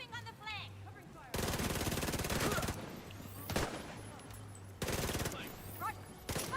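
Bursts of automatic gunfire in the video game The Division 2, loud sustained volleys in two main stretches with sporadic shots and voices in between.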